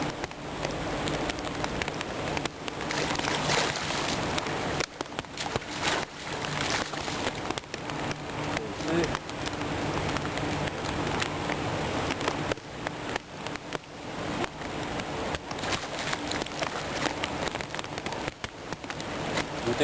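Heavy rain falls steadily during an urban fishing trip, a dense hiss and patter that runs without letup, close and fairly loud throughout.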